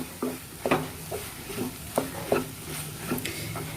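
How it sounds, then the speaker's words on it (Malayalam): Masala with pepper powder sautéing in a pan for Kerala fish pollichathu, soft sizzle under repeated light stirring taps and scrapes, close and fairly quiet. "ഇനി നമുക്ക് ഈ മസാലയുടെ കുത്തൽ മണമൊക്കെ മാറുന്നവരേക്കും ചെറുതായിട്ടൊന്ന് വഴറ്റി കൊടുക്കാം."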